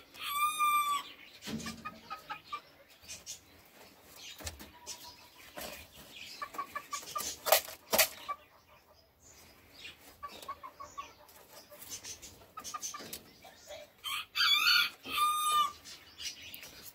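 Chickens cluck on and off throughout in an aviary, with a rooster crowing loudly near the start and again near the end, plus some brief wing flapping.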